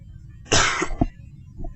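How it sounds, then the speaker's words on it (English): A single sharp cough bursts out close to the microphone, followed by a smaller throat-clearing catch and a faint trailing breath. "I'm going to cough right now."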